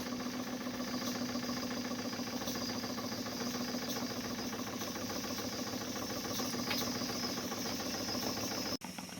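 Small scale steam engine running steadily at speed, a continuous even chuffing rumble with a fast mechanical rhythm, with a brief dip near the end.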